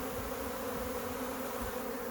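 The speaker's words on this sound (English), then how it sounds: "Bees are boiling out of several hives," A honeybee swarm pouring out of several hives, a continuous close, dense buzzing drone with no break or speech.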